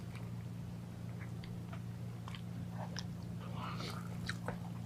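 Someone bites and chews a crunchy Indo-Chinese dumpling of paneer and pork with a seared bottom and crisp lattice, giving soft, close crunching clicks over a steady low hum.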